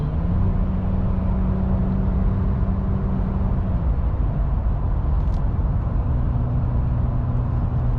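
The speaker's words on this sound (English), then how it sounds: "Hear exhaust if I get on it a little bit" A 2021 Ram pickup's 3.6 Pentastar V6 with upgraded exhaust drones loudly and steadily while accelerating, its pitch shifting partway through as it pulls and then settles, with no talking.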